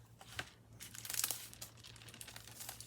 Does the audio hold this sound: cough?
no